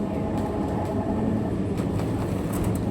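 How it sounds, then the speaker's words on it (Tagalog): Low rumbling and rattling of a small museum train running in Malmö, a continuous rolling drone with faint clicks, heard from on board. "Train. Small train."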